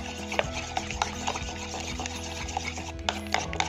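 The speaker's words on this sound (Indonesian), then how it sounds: "masukkan 1 butir telur ya. Lalu kita kocok hingga tercampur rata" An egg is beaten by hand into banana pizza batter in a bowl. A utensil scrapes and taps in quick, steady strokes at close range, with light clinks against the bowl.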